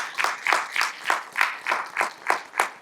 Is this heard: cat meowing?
no